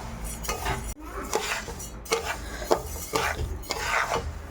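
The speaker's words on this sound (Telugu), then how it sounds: "యాడ్ చేసుకొని రెండింటిని బాగా ఫ్రై చేసుకోవాలన్నమాట" Rice and lentils being dry-fried together in a pan while a utensil scrapes and stirs, producing steady close rasping and clinking with a few sharper knocks, no voices.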